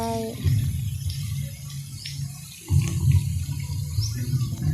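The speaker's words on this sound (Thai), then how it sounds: "กลางน้ำก็มีน้ำพรมน้ำพุมีซาปมซาป่านะเจ้า" A fountain sprays water into a pond at Nong Buak Hard public park in Chiang Mai, a continuous rushing splash with surges, heard close and fairly loud.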